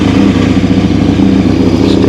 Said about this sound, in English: Let's see what happens when I start the bike